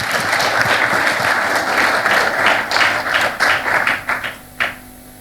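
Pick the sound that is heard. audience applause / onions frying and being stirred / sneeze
audience applause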